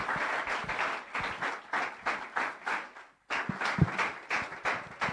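A church congregation claps together in a steady patter of many hands, pausing briefly partway through and then resuming, fairly close and full.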